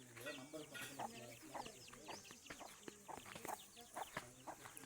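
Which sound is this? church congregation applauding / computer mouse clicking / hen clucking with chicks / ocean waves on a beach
hen clucking with chicks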